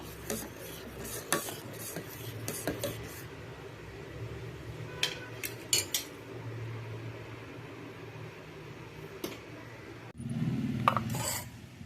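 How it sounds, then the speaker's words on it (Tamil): Thickened milk being stirred in a pan while it cools, for homemade mango ice cream; soft scraping and rubbing strokes come in an uneven rhythm, close and fairly quiet, with a louder burst of stirring near the end and no talk. "நல்லா கலந்து விட்டுட்டே இருக்கணும்"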